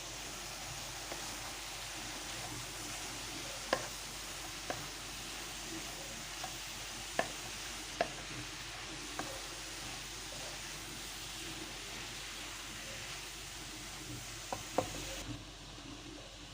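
Sliced leeks and a grated carrot cook in a pan for a crispy leek börek, with a soft, even sizzle throughout and occasional sharp clicks from a spoon or spatula as the vegetables are stirred.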